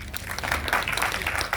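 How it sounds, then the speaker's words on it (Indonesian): Applause at a press conference launching an Indonesian horror film trailer, a short burst of many hands clapping together in a room. "Tepuk tangan dong buat film Indonesia."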